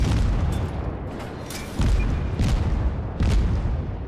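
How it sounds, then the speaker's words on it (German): Heavy shell impacts slam into a USA Omaha cruiser in World of Warships, several loud booming hits arriving in irregular succession over a rumbling naval battle background. "Oh, wir kriegen jetzt ordentlich Geschosse hier rein."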